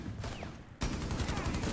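Light machine gun firing in Rainbow Six: Siege, a sudden dense burst of rapid shots that starts partway through and continues to the end, loud and close.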